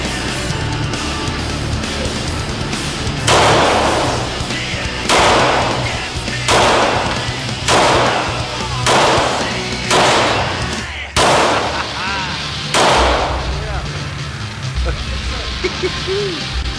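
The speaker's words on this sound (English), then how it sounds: "Fire the 9mm," A 9mm handgun fires about eight or nine loud, sharp outdoor shots at irregular intervals, each with a short ringing decay, while people talk between them.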